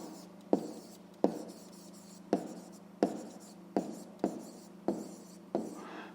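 A pen writes by hand on paper in a quiet room, producing a series of about eight sharp taps and short scratchy strokes at an uneven pace.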